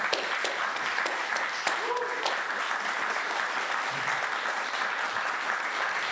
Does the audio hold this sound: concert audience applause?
yes